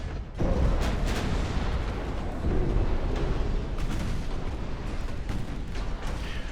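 Secondary battery guns fire aboard a warship in the Ultimate Admiral Dreadnoughts naval video game, a continuous barrage of deep booming reports and sharp cracks overlapping with no break, loud and heavy throughout.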